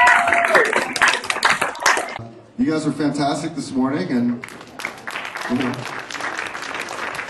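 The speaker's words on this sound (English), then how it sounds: "let's give these guys a round of applause" Audience applause at a workshop at The Silver Academy, a burst of clapping at the start that soon gives way to someone talking to the crowd, with scattered claps continuing under his voice.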